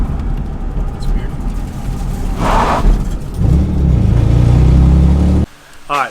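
A drift car's engine runs near, a low rumble that swells into a revving burst before cutting off abruptly, with a voice speaking over it.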